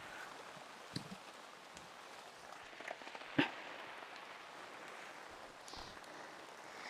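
Steady rain patters outdoors in a hibiscus garden, forming a continuous soft hiss with a few sharper drips and taps close by.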